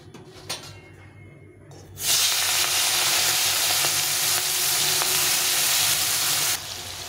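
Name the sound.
prawns frying in oil in a wok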